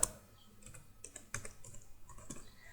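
Clicks and taps of typing on a computer keyboard come in short irregular bursts, fairly quiet and close, with brief pauses between keystrokes and no voices.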